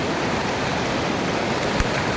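A waterfall in Caquetá, Colombia pours with a dense, steady rushing roar that stays even throughout, close and loud, with no voices over it.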